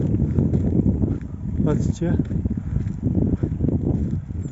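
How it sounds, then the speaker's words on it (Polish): Strong wind buffets the microphone in heavy gusts, with rumbling noise and a person speaking briefly over it. "O, ale wieje."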